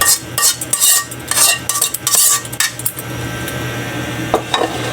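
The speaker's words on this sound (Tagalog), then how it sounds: "Haluin lang natin yan." A metal spoon scrapes and clinks against a pot while stirring sautéed mung beans with vegetables (ginisang monggo), the clatter coming in close repeated bursts over a low cooking hum.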